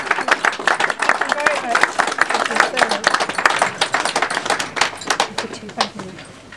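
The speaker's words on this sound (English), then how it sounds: "Another round of applause for Mum." Wedding guests clap for the bride's mother in a dense burst of applause that fills the room and slowly thins out toward the end.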